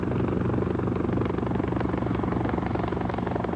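A military helicopter flying, its rotor beating in a loud, steady, continuous throb that stays close and unbroken throughout, with no talk over it.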